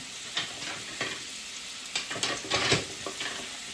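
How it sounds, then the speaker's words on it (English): Sausage frying on low heat in a pan, a soft steady sizzle with several sharper scraping stirs and pops, close and alone without talk. "I'm cooking up the sausage here. Got it on low."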